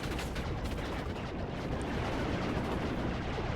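Explosions and gunfire in a Star Wars WARNO real-time strategy battle, First Order forces with AT-ST walkers; a dense, steady roar of blasts and shooting runs throughout, loud and unbroken.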